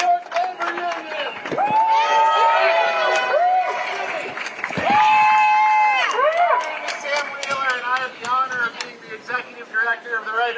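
A crowd at a Writers Guild of America East and SAG-AFTRA union rally in front of ABC headquarters in New York City shouts, whoops and cheers loudly and continuously, with many overlapping voices close by.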